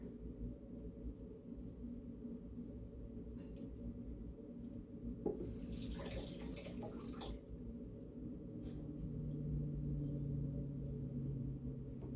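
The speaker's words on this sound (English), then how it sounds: "I'm going to clean the whisk." Tap water runs for about two seconds as a kitchen whisk is rinsed at a sink at night, a brief splashing burst between quieter stretches of faint clinks and background hiss.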